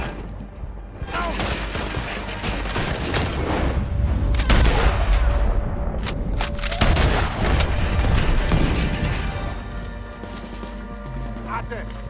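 Gunfire and cannon blasts from the video game Red Dead Redemption 2 fill the scene: dense, irregular bursts of shots and booms over steady battle noise, with people talking throughout.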